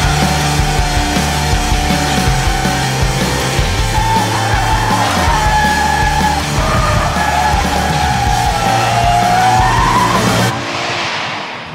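A Toyota GT86 on deliberately low-grip tyres drifts at low speed, its tyres squealing and skidding continuously over a loud, steady engine drone for about ten seconds before the noise cuts off abruptly.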